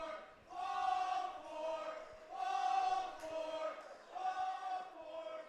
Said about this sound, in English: You may hear the crowd there.